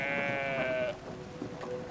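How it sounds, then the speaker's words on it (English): A sheep in the video game Brothers: A Tale of Two Sons gives one clear, wavering bleat lasting about a second, followed by quiet ambient game sound. "We'll put the sheep in here."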